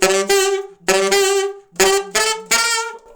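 A saxophone plays four short phrases of quick tongued 16th-note triplet articulations, each burst a bright sustained tone broken by rapid attacks, close and loud with brief gaps between.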